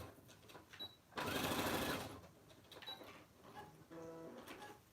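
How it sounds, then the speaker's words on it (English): Sewing machine backstitching a seam on oven mitts, a quiet close whir in short bursts with one louder sustained run of stitching. "make sure I backstitch on this side also"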